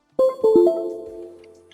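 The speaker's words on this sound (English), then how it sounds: "Once you will connect the Node MCU to your laptop, you will get a beep sound like this." A laptop chimes as a NodeMCU board is plugged in by USB: a short cluster of three or four quick, bright tonal notes that ring out and fade over about a second and a half, clear and alone.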